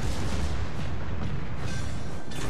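Continuous dense rumble of battleship secondary guns firing in World of Warships, heavy booms blending into one another at close range with a sharper burst near the end.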